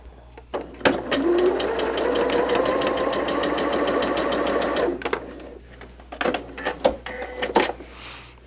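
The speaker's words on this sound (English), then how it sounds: "I'm going to do just a little sample" Sewing machine running a short quilting sample stitch: a steady close rapid whirring hum for about four seconds, preceded and followed by clicks and handling taps.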